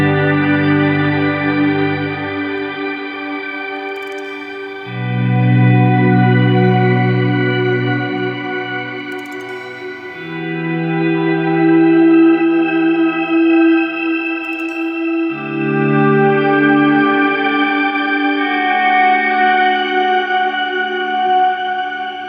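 Electric guitar played through a swell effect on an ambient pedalboard, four slow volume-swelled chords that each fade in and blend into a lush, sustained wash, loud and alone with no voices.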